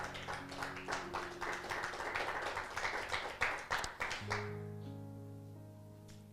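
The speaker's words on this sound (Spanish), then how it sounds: "Dale un fuerte aplauso al Señor por esto." A church congregation claps rhythmically in unison for several seconds, the beats fairly loud and close, then stops while sustained organ or keyboard chords carry on alone.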